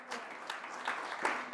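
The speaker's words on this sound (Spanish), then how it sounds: "Denle un aplauso al Señor en este día." A church congregation claps together in a steady, fairly close round of applause, with a voice faintly audible under the clapping.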